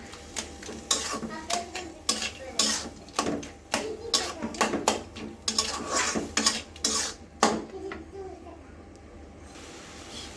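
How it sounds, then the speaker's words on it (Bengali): A utensil scrapes and clacks against a pan while taro leaves are stirred and mixed, with rhythmic, fairly loud clattering strokes and a voice speaking in between. "পুরো শাকটা আমি ভালো করে ফেটিয়ে নিয়েছি"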